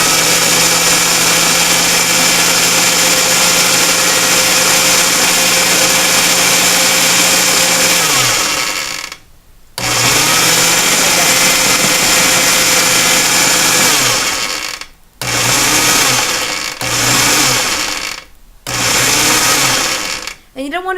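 A food processor pulses pie crust dough in loud, steady motor bursts, one long run then several shorter pulses separated by brief silences, each ending with the motor winding down.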